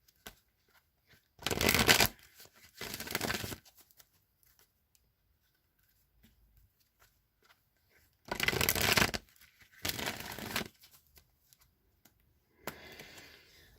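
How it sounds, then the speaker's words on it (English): An oracle card deck is shuffled in four separate bursts of quick, crisp riffling, close and distinct, with near-silence between them and a softer rustle at the end. "I'm going to go ahead and shuffle the Wisdom of the Oracle deck a few times."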